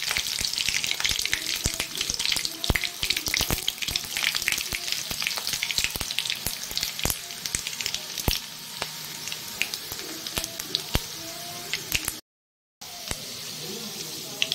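Cumin, garlic and curry leaves sputter and sizzle in hot oil, a sharp crackling hiss with popping bursts and a quieter stretch near the end.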